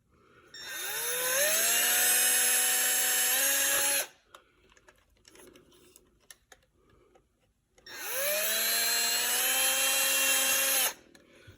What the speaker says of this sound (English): So now I got all 4 holes drilled in there.